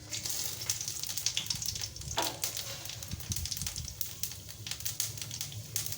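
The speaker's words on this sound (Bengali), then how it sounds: "লঙ্কা, তেজপাতা, পাঁচফোড়নটা আমি দিয়ে দেব তেলের উপরে।" Chili, bay leaf and panch phoron crackle and sizzle in hot oil for a Bengali moong dal dish, a steady close hiss with scattered pops and a brief stirring scrape midway.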